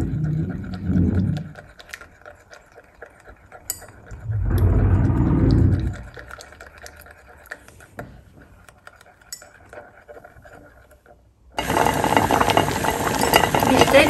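A utensil scrapes and stirs a hyaluronic hair styling cream emulsion in a bowl, producing two short bursts of soft swishing and clinking, followed by quiet ticks and then a louder hiss from a hot water bath.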